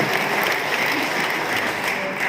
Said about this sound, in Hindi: तो ताली बजाओ, बजाओ, कितना करना बजाओ।